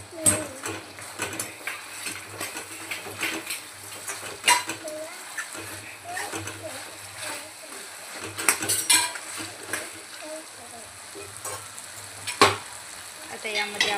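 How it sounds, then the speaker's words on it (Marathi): Drumsticks (moringa pods) sautéing in masala in a pan for a shevga curry, with steady sizzling under repeated scraping and clinking of a spoon against the pan, close and moderately loud, no talking. "आणि शेंगा मस्त मसाल्यामध्ये आधी परतून घेऊया."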